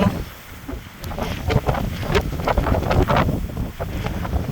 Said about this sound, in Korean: 바람 불었어.